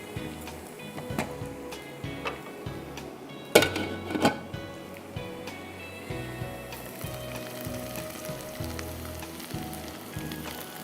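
Onions gently frying in a pan, a soft continuous sizzle with scattered crackles and a couple of utensil clinks, moderately quiet and close.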